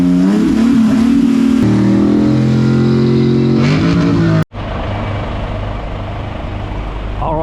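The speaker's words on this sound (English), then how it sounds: "The Citroen, obviously a French-made car." French-made Citroen car engine at the Retro-Classic Stuttgart show runs loud and close, with a droning hum that rises in pitch as it revs, a brief cutoff, then a steady lower idle.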